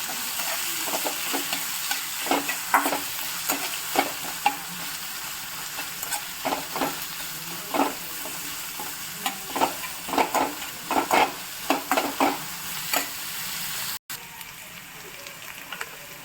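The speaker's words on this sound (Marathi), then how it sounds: "आता मी बारीक चिरलेला कांदा टाकते. कांदा छान ब्राऊन होईपर्यंत आपल्याला परतून घ्यायचा." Finely chopped onion sizzles steadily in oil in a kadhai for pulao while a spoon stirs it, giving repeated scraping knocks against the pan, close and continuous.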